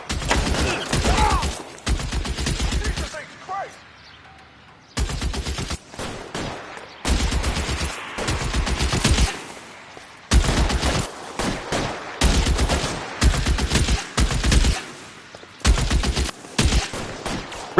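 Bursts of loud gunfire from the L.A. Noire video game, with dense rapid volleys separated by brief pauses and some faint voices in the gaps.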